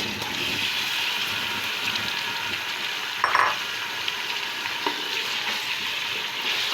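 Beef for haleem fries in a pot, a continuous close sizzle with a brief louder burst as the meat hits the oil and light stirring.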